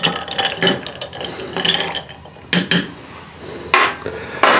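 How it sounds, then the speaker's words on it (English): Spoon stirring a Bloody Mary made with infused vodka, giving a series of clinking, rattling metal-on-glass strikes in uneven bursts, close and fairly loud, with a sharp clatter near the end. "All right, I like to give it a little stir."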